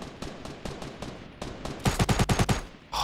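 Rapid machine gun fire in a video game, with a burst of about nine quick, loud shots near the end after a stretch of scattered gunfire and ambient battle noise.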